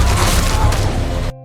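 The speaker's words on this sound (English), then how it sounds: "Suddenly, gunshots ring out as a speedboat rushes in." Gunfire erupts from a speedboat in a Fear the Walking Dead scene: a loud, dense volley of shots over a roaring rush that cuts off abruptly.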